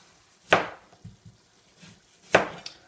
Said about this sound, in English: Okay, so I've finally cut enough potatoes.